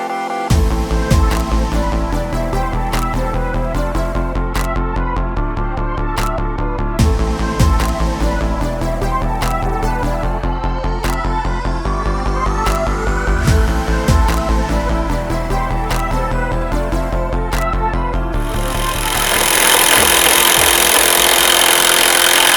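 A Panasonic EY75A7 18V impact driver runs close and loud in a long, continuous drive, its buzzing motor tone broken by regular sharp knocks. Near the end it gives way to a harsher, hissing burst.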